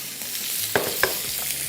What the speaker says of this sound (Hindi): लहसुन थोड़ा सा फ्राई किया, इसके बाद इसमें ये चिकन क्यूब में कटा हुआ ये शामिल कर देंगे